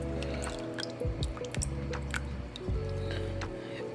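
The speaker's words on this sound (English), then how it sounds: "We are gonna add in the whole can of evaporated milk and the entire can of coconut milk." Canned evaporated milk and coconut milk poured into a bowl for a mango sago dessert, close thick glugging and splashing in a few bursts over a steady low background hum.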